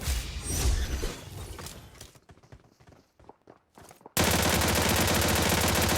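Gunshots and footsteps in PUBG Mobile, a dense cluster of shots up front, then sparse sharp cracks and steps, ending in a loud, steady burst of rapid fire.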